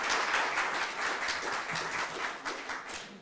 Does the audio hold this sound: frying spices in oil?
no